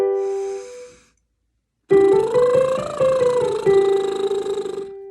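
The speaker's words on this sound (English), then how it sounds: "Make sure that your teeth are not touching when you're doing your lip trills" A voiced lip trill done with clenched teeth, a tense buzzing tone that rises and falls in pitch over about three seconds, close and alone after a short lead-in tone and a pause.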